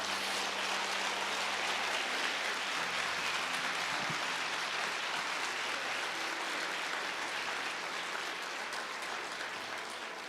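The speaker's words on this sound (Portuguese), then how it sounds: "Será que você pode aplaudir Jesus por isso?" Sustained applause from a church congregation during a Portuguese-language sermon, a dense wash of clapping filling the room at steady volume for the whole stretch, easing slightly toward the end.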